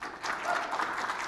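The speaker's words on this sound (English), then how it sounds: "All right, a smattering of applause, we can say." A brief, light smattering of applause from a national security conference audience, scattered claps forming a thin wash for about a second.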